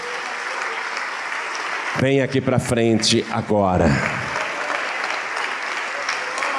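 A church congregation keeps up continuous applause as a steady background wash while a voice speaks loudly over it for a couple of seconds.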